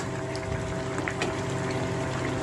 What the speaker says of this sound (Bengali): এই গরম জলটা ঢেলে দেবো